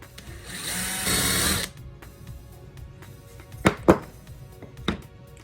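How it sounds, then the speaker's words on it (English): A power drill with a countersink bit bores screw holes in wood for a dog gate, one sustained burst of drilling near the start, then quiet shop handling with a few sharp knocks. "We're just gonna drill up through so that all the screws are hidden."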